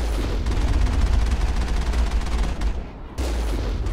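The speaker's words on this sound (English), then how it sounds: "They're shooting at us from right here." Sustained gunfire in the video game Mass Effect: a dense, loud rattle of rapid automatic shots with low booms, cutting out briefly near the end before resuming.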